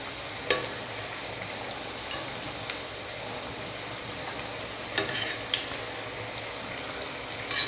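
Thavala vadai fry in hot oil, a steady close sizzle and bubbling with a few sharp clinks of a utensil against the pan.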